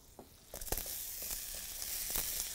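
Butter and onions hitting a hot pan for a steak dish, a soft hiss that swells into a steady sizzle with brief crackles and stirring scrapes, fairly close and quiet.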